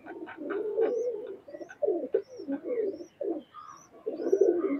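Teddy single Maya pigeon, a running pigeon kept in a loft in Khulna, cooing in repeated low throaty phrases up close, with fainter chirps from other birds in the background and no talk.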